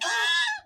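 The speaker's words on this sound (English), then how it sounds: "that's the sound of a wood duck" A female wood duck gives a single short, nasal, squealing call, close and clear, lasting under a second and fading quickly at the end.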